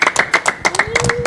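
A church congregation claps in a quick, evenly spaced rhythm, close and fairly loud, while a voice carries on over the beat.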